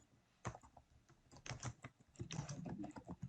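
Typing on a computer keyboard while writing a MySQL query in Python, a quiet run of close key taps in uneven bursts, clustering into rapid clatter toward the end, with no talk.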